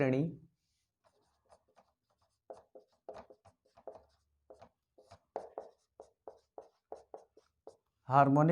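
Chalk or a marker writes on a board during a Hindi-language math lecture on harmonic series, tapping and scratching in quick, irregular strokes, with a voice briefly at the start and end.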